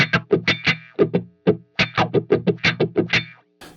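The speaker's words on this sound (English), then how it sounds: "he was one of the pioneers of the wah effect" Electric guitar played through a wah pedal in a Hendrix-style funky rhythm, choppy muted strums with sweeping vowel-like tone shifts and distortion, short repeated stabs in a tight groove, loud and close.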